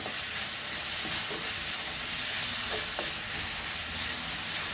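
Goan sardine fish side dish ingredients sautéing in a hot pan, a continuous loud sizzle and hiss with occasional stirring scrapes, no talking.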